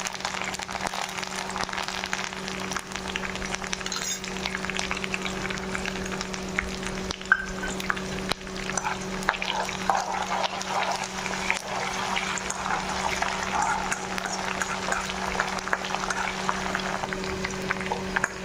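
Fenugreek seeds, onion and curry leaves fry in oil over a low flame, giving a steady, busy bubbling sizzle with a low hum underneath, close and continuous throughout with scattered small pops.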